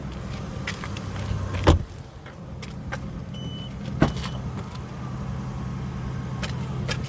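A Kia Mohave interior with low steady rumble, a couple of sharp clunks, and a faint whirring motor as the power tailgate moves.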